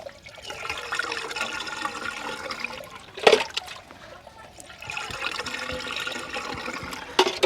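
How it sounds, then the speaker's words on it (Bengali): An electric water pump motor, newly bought, pushes water through into a tank, giving a steady gushing trickle with a hum beneath, interrupted by a couple of brief louder splashes or knocks, close by. "এটা দেখা যাচ্ছে তো মোটরটা কেমন জল দেয়"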